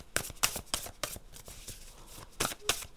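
Oracle cards being shuffled for a tarot-style reading, with repeated crisp riffling bursts in quick clusters, close and fairly loud, with brief pauses between and a hint of voice in the background.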